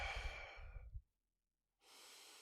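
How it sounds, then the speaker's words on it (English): Deliberate breathing exercise of the kind taught at a VA hospital: a long audible exhale that fades into silence, then a steady breath starting again, close and soft with nobody speaking. "those are breathing techniques that I learned at the VA hospital"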